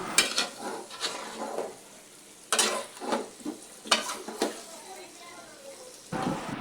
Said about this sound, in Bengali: তো এখন আমি নাড়াচাড়া করে নিই।